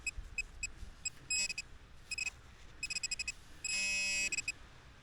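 A metal detector on a beach gives a string of short, high electronic beeps in quick clusters, then one longer warbling tone, over a quiet outdoor background.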